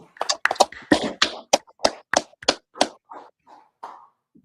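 Scattered audience clapping in a class gathering, a dozen or so sharp, separate claps in a loose irregular rhythm, close and loud at first, then slowing and softening.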